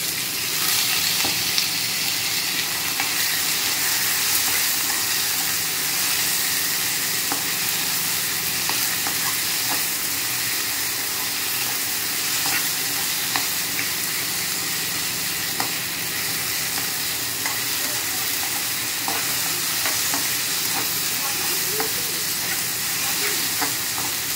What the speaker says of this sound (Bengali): এর মধ্যে আমি আলুটাও দিয়ে দিচ্ছি, কাটা আলুটা, সেটা একটু ভাজা ভাজা হয়ে যাবে।